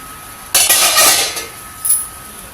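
A cooking pot lid is lifted off after ten minutes of steaming a traditional sweet, giving a sudden bright metallic clatter and scrape that fades within a second, followed by a brief second clink.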